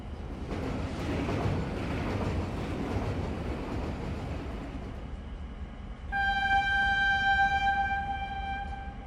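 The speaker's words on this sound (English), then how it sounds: "This toy train chucks along the line, whistling to the pine forest and the mountains" A narrow-gauge toy train in Shimla rumbles and clatters along the track, then a shrill, steady whistle blows continuously near the end.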